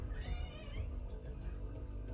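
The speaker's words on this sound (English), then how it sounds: "Gotta release my cats." Cats meowing close by, a few overlapping mewing calls over about two seconds with a steady low background rumble.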